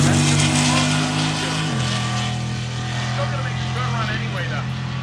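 Two drag racing cars, a Camaro and a Malibu, launching off the line at a summer drag event, the Malibu spinning its tires; a loud, continuous engine roar with a pitch drop as revs settle, heard close and steady throughout.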